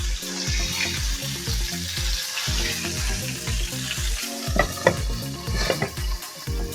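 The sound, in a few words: small fish frying in a pan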